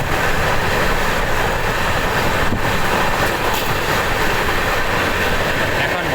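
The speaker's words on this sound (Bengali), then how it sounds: "কয়লা বোঝাই মালগাড়ি।" A coal-loaded freight train rolls past close by, giving a steady, loud rumble of wagons with broadband rail noise that stays constant throughout.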